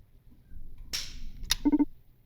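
A video-game revolver fires during a Russian roulette game: one sharp, bright gunshot crack, followed by a quick metallic click and a few rapid mechanical clacks.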